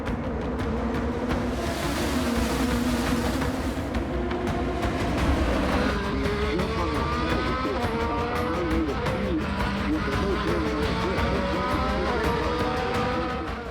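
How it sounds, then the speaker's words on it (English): IndyCar race cars at the Gallagher Grand Prix in Indianapolis roar continuously as a crowded field races past, a dense, loud wash of engine noise with shifting pitches from several cars, no talking. "Let's go racing in Indy. This is the Gallagher Grand Prix."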